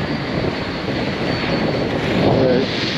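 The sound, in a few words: jet airliner flying overhead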